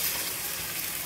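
Water poured into a pan of potatoes frying with ginger paste and chili powder, giving a loud, steady broadband sizzle and hiss that runs unbroken for about a second, then drops off sharply at the end.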